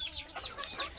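Chickens kept in an enclosure cluck faintly in a brief burst, a few short warbling calls at low level in the background.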